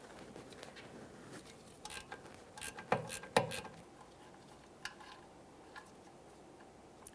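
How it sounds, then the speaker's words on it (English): A ratcheting wrench turns a 13mm mounting nut on a Ford Fusion, giving faint, irregular clicks with a couple of sharper snaps in the middle, quiet against a low background. "We'll just use a ratcheting wrench for this."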